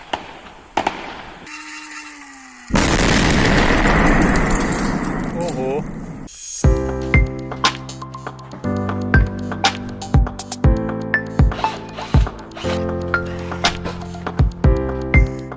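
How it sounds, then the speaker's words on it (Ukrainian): Sappers set off a 3 kg explosive charge at windows. A loud blast bursts out, followed by a long crackling, rumbling tail, and then a series of sharp metallic impacts and debris clinks. "сапери, заклали 3 кілограми вибухівки"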